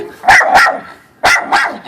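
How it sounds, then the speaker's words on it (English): Neighbors' dogs barking from a nearby yard at other dogs in a backyard: two pairs of loud, sharp barks in quick succession, separated by a short pause. "They're barking at our dogs in the backyard."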